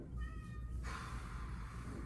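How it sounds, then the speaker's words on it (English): Pet cat meowing indoors, a few drawn-out tonal meows in the first second, then a broader hissy noise takes over under a steady low room rumble. "If our cat doesn't shut up,"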